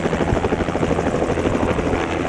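A helicopter flying during a hunt in South Texas, a loud close rhythmic rotor chop that pulses steadily throughout with no talk.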